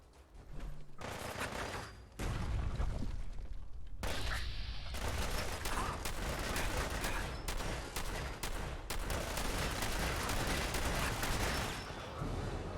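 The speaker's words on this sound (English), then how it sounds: "Alright, I need my shotgun here." Heavy shotgun blasts ring out in Fallout 4, a dense run of loud, booming shots with near-continuous gunfire and echoing impacts filling most of the stretch after a brief quieter opening.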